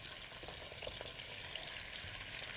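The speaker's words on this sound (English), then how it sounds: "you want to hear that sizzle" Chicken sizzling loudly in a hot skillet, a continuous crackling hiss with small pops, close and steady throughout.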